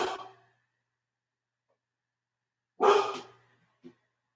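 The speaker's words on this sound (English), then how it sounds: "I had a feeling she was going to start barking." Two sharp dog barks separated by a few seconds of silence, followed by a short faint huff, moderately close.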